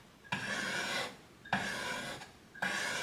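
Chisel honed with a honing guide for a micro bevel, three rasping strokes about a second each, separated by short pauses, close and clear with no speech.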